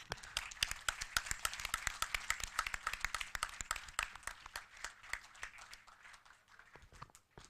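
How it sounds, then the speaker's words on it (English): An audience at an Indian Army quiz competition claps for a school team, a dense run of sharp hand claps that starts strong and gradually thins and softens toward the end. "A huge round of applause."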